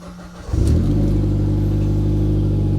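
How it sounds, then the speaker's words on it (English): A Mitsubishi Evo X engine cranks briefly and catches, settling quickly into a steady, close, loud idle hum. "fire up the car"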